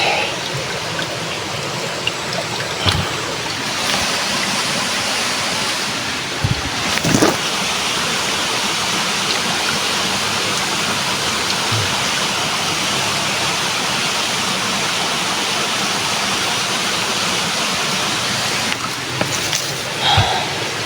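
Loud, continuous rushing of strongly flowing fresh water in Mindanao fills the scene, with a few brief knocks and handling sounds close by.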